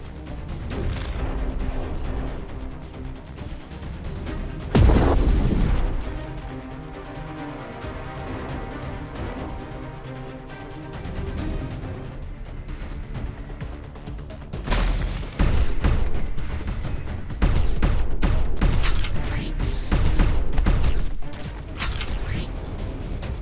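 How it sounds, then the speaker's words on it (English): Airstrike explosions in the Steel Assault video game, with heavy booming blasts and a rapid burst of gunfire-like crashes arriving in clusters around five, fifteen and twenty seconds over a continuous game soundtrack. "Thank you, Airstrike."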